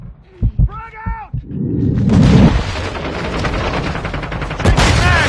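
A frag grenade goes off in Call of Duty Modern Warfare 2. A few sharp shots and a shouted voice come first, then a loud close blast rumbles on amid crackling gunfire, with another sharp hit near the end.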